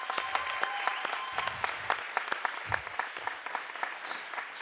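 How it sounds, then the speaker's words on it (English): An audience at a circular-economy tech talk breaks into applause to welcome a speaker to the stage. The clapping is dense and sustained, with sharp individual claps standing out over the crowd, moderately loud and nearly alone. "I would like you all to join me in a warm welcome and a big applause to Mr. Ken Webster."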